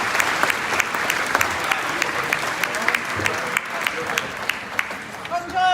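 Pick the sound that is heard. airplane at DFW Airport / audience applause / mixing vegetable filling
audience applause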